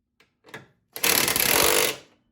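Strut mount hardware being tightened on a 1992 Camaro with a power tool, a couple of faint taps followed by about one second of loud, rapid rattling impact hammering that stops abruptly.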